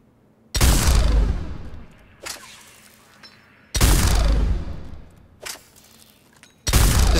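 Heavy Executioner pistol from Mass Effect 3 fires three loud, booming single shots at roughly three-second intervals, each with a long decaying tail, with smaller mechanical clacks of handling between them.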